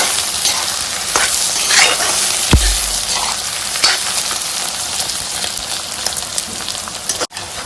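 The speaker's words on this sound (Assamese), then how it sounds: "ভালকৈ ভাজি গোটেই" Pork pieces fry with red chilli in a pan for a pork and bamboo shoot dish, giving a loud, continuous close sizzle. Occasional scraping stirs and clatters cut through the hiss.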